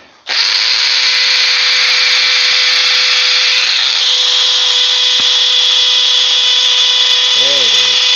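A Bosch rotary hammer drills continuously and loudly at close range, holding a steady high-pitched whine with a rough hammering buzz for the entire stretch, then a brief tonal squeal near the end.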